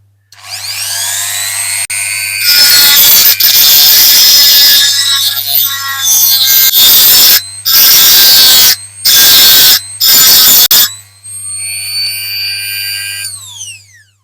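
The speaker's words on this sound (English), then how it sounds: "I'll just be taking the multi-tool to it" A multi-tool grinds a Dinky Toys Mercedes-Benz 220SE diecast car in loud, high whining bursts with shrill overtones, cutting in and out in several separate passes, with a steady low hum running underneath.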